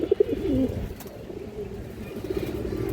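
Healthy pigeons give a few soft, low coos up close at the start, followed by a faint murmuring coo in a quiet room.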